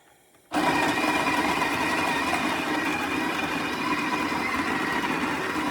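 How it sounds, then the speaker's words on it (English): A coffee grinder starts abruptly and runs at a loud, steady whir, grinding a Nicaragua and Brazil coffee bean blend to a medium-fine grind. It continues without a break to the end. "So I'm going to grind this real quick."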